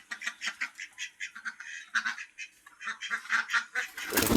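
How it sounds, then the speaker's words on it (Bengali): Pigeons call inside their coop, a brisk run of repeated throaty calls overlapping close by, with a louder flurry toward the end. "সব কবুতরগুলো ঘরের মধ্যে বসে আছে, সব গ্রুপে কবুতরগুলো আছে।"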